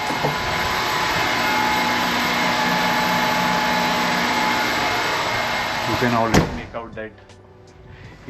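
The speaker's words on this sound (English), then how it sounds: "loud sound from the engine room" Loud, constant machinery roar fills a large ship's engine room, then a door thuds and the noise drops as a voice speaks briefly.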